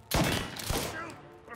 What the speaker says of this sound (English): now gotta shoot some cops